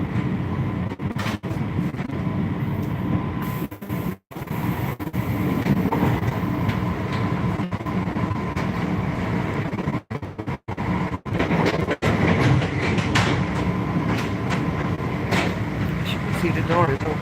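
A passenger train is in motion with its rail cars rattling. A steady rumble and clatter carry on throughout, with a few brief dropouts and some faint talk at points.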